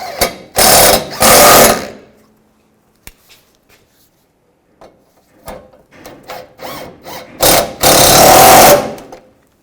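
Ratchet tightening front bumper bolts on a 2007-13 Chevy Avalanche, loud close bursts of rapid clicking separated by pauses, with a few short quieter ratchet strokes and taps in between.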